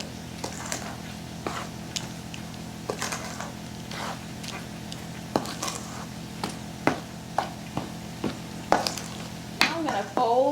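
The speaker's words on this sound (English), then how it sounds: "Now I'm going to stir it all up just until it's blended" Cornbread mix stirred by hand in a bowl: quiet, irregular scrapes and soft wet squishes with occasional sharper taps against the bowl, growing a little busier toward the end.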